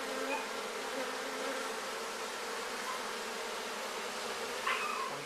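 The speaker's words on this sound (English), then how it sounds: "But you can see all the bees working away." A hive of honeybees building out honeycomb gives a steady, even buzzing drone that fills the whole clip at moderate loudness, with no talk over it.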